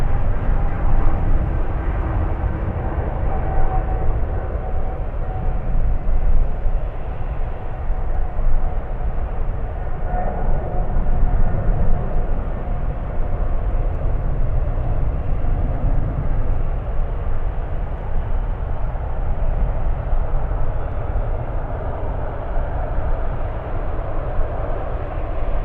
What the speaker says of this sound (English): Wow, look at that early rotation. Goodness. Early takeoff of that one.